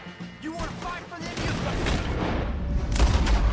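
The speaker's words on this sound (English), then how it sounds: "Shaken by that cannon blast." Cannon blast and gunfire in the Red Dead Redemption 2 video game, heavy booms and crackling shots building into a loud, continuous barrage with a voice heard early on.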